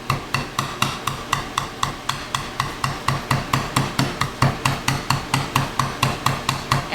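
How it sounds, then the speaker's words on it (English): Chicken pieces for tandoori chicken are pounded thin with a steady, rapid series of about thirty sharp thuds, close and evenly spaced. "just lightly pound it so you've got nice thin strips"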